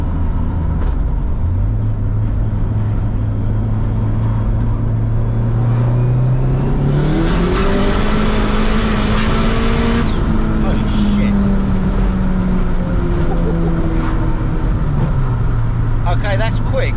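Ford Transit Connect engine revving with an aftermarket Chinese turbocharger spooling, a rising whine and engine note that climbs, holds, then falls back to idle, with talking over it.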